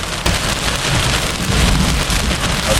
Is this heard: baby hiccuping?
no